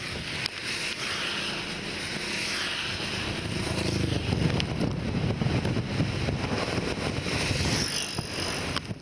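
Strong cyclone wind blowing through Chennai, a continuous rushing gust with buffeting against the microphone, moderately quiet and swelling slightly toward the middle.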